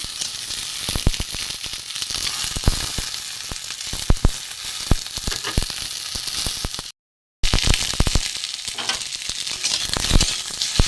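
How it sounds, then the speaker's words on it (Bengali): Pointed gourd (potol) frying in hot oil crackles and spits loudly and continuously, with dense popping close up, a brief gap of silence partway through, and no speech. "পটলগুলো একটু লাল করে ভেজে নেব"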